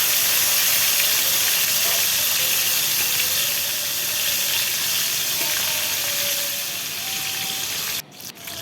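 Pieces of bhetki fish sizzle and hiss steadily in hot oil in a pan, a dense, continuous frying noise that briefly dips near the end.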